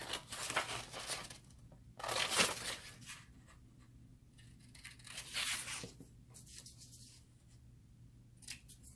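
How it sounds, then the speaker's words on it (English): Scissors snip through paper to cut out a stencil shape for fondant Lego pieces, a series of close, crisp cuts with paper rustling in between and pauses between strokes. "And then just take scissors and cut out the shape."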